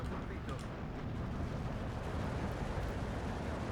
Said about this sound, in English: Here comes more 280 rockets.